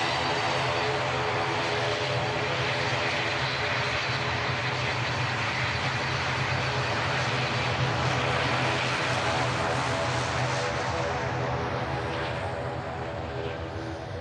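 A Scandinavian airliner on its takeoff roll at Manchester Airport, its engines a loud, steady roar that builds and holds across the whole stretch before easing slightly at the end.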